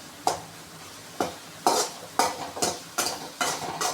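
Crushed ginger pieces and garlic cloves sauté in a pan, with about nine rhythmic spatula strokes clattering at close range over a faint sizzle.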